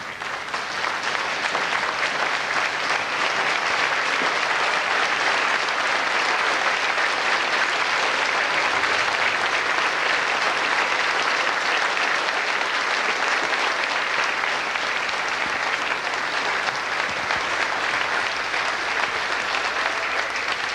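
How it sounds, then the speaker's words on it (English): A large audience at a tribute event for an Irish show-business figure stands and applauds, a dense, steady roar of clapping that holds loud and unbroken throughout, with no speech over it. "give a standing ovation to this great man, the living legend, Shay Hutchinson"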